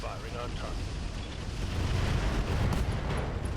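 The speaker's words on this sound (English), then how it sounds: "LRM ammo explosion. That's what we're looking for." LRM ammunition cooking off on a mech in RogueTech, heard as a sustained roaring, rumbling explosion wash that swells slightly and stays dense throughout.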